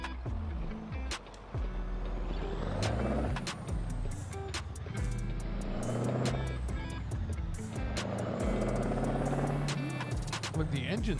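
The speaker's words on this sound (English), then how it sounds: "The engine sounds fantastic" Diesel truck engine in American Truck Simulator, hauling fruit from Wyoming to Montana. A steady low rumble rises and falls in pitch as the rig runs, with someone talking over it.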